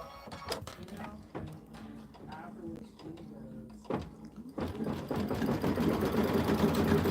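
A computerized sewing machine stitches a quilting design, starting after a few clicks and clunks of setup, then running as a loud, continuous mechanical whir with someone talking over it.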